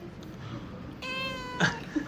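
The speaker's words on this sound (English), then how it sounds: "You're just chilling with this cat." A cat gives two short meows close by in a quiet indoor space, during a skiing trip in Japan; the first is clear and drawn out, the second is brief and fainter.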